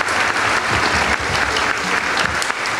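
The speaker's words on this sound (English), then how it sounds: "Let's give our moderator a round of applause." A large audience at an evening honours event fills the room with loud, dense, steady applause for the moderator, continuous throughout with no speech.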